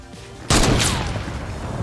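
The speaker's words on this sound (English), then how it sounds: "he shoots out a few random no-scopes, and one of them ends up being quite the lucky shot" A single loud, sudden gunshot in Fortnite, with a sharp blast followed by a long, decaying echo.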